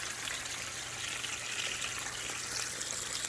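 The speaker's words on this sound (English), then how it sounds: "here's the waterfall right here." A small garden waterfall built from rocks trickles and splashes steadily, close by and moderately quiet, with a continuous bright watery wash and no talking.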